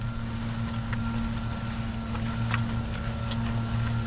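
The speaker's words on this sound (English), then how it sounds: "We got some lawn crews in the neighborhood with their backpack blowers" Backpack leaf blowers run by lawn crews drone somewhere in the neighborhood, a steady distant engine hum with a constant tonal whine and airy rush throughout.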